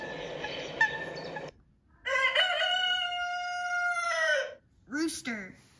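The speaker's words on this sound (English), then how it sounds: "Rooster." A rooster crows twice, the first call broken, the second a long, loud, drawn-out cock-a-doodle-doo, with a short squawk following, heard clearly and up close.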